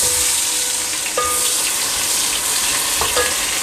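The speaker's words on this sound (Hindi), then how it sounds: "प्याज को मैं लाइट ब्राउन कर लूँगा।" Onions frying in hot ghee in a pot for vegetable biryani give a loud, dense, continuous sizzle that barely changes from start to finish.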